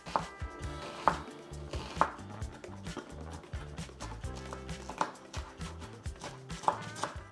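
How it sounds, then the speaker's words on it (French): A knife chops red onion and fresh herbs coarsely on a cutting board, a steady run of quiet, rhythmic taps with a few sharper strikes, no talking. "On va ensuite venir ciseler grossièrement un oignon rouge et nos herbes."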